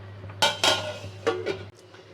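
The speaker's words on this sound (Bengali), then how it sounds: "এবার আমি ঢাকা দিয়ে দেবো ওটা।" A lid clanks down onto a kadai of spiny gourd steaming in salted water: a few sharp metallic knocks and clinks, close and fairly loud, followed by quieter rattles.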